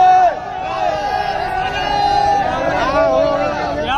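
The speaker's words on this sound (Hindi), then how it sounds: "तो गाइस भीड़ देख ही सकते हो कितनी ज्यादा है।" A large crowd of men and women packs a jammed road, with a dense babble of voices and occasional raised shouts and calls rising above it, close and continuous for the whole stretch.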